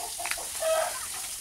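Free-range country chickens cluck nearby, a few short hen calls over a quiet background with no talking.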